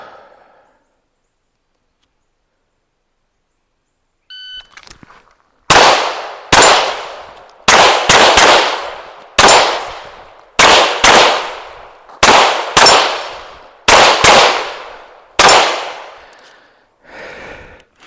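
A rapid string of loud gunshots rings out during a target shooting drill with movement, about nine sharp reports with brief gaps between them after a quiet opening and a small metallic tick.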